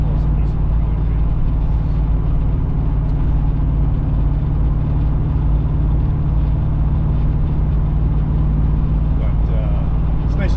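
A 1983 Pontiac Parisienne cruising at about 70 mph, its engine and road noise forming a steady, loud, unbroken drone throughout, with a constant low rumble underneath.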